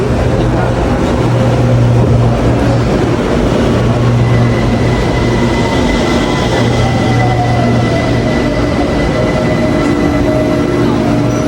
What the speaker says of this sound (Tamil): இந்த சைடில் நம்ம ட்ரெயின் வருது